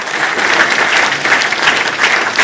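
Loud, dense applause from an audience at a meeting programme in Basti, continuous even clapping with no voices.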